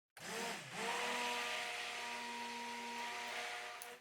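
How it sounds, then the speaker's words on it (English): A blender whirs steadily for a few seconds, mixing oxide colour powders into oil for a lemongrass-scented coconut milk cold process soap, with a close, even motor whine and no talking. "adding them to the oil and whizzing like that just really does help them to disperse"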